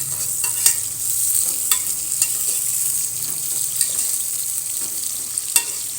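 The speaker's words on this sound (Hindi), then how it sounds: "आधी प्याज को हम गोल्डन फ्राई करेंगे।" Onions, half a batch, fry to a light golden colour for Sindhi biryani, giving a steady close sizzle with a few sharp clicks of stirring scattered through, no voices over it.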